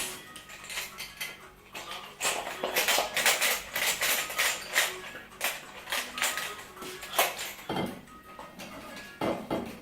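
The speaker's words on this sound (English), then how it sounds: "I'll start by changing the pot cover knob." Metallic clinks and clattering as a knob is swapped on a stainless steel pot cover, irregular close taps and scrapes in bursts over faint background music.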